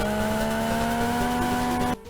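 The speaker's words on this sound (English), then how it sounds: "the Game Boy Advance sound chip produces the sound of the car revving up, drifting round corners and driving on tougher terrain" Car engine in the racing game GT Advance 3 on Game Boy Advance, a steady buzzy chiptune drone with a fixed pitch that cuts out abruptly near the end.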